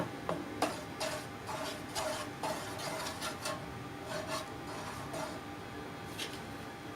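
Spoon scraping and stirring through homemade tomato ketchup in a pan, a steady raspy rubbing with light ticking knocks against the pan under a constant background hiss.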